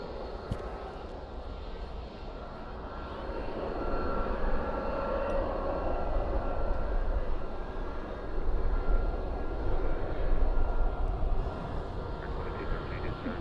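A British Airways jet departs Dallas/Fort Worth airport at night, its engines a broad, steady roar that swells and holds at a distance across the whole stretch, with no talk over it.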